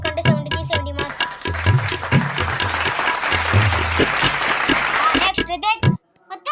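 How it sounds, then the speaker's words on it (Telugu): Classroom of children clapping for a student, a busy patter of small hands running several seconds under a teacher's voice and children's chatter, cut off abruptly near the end. "అందరూ సాయి కిరణ్ కి క్లాప్స్ కొట్టండి"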